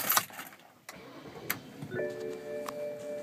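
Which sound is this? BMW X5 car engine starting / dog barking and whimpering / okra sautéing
BMW X5 car engine starting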